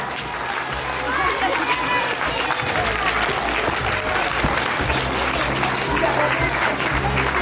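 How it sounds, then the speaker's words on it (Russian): Steady, dense applause fills a youth theatre as an audience welcomes a dance school's group of eight-year-olds onto the stage, with a voice faintly carrying over the clapping throughout. "И сейчас аплодисменты, пожалуйста, позовем ее на сцену."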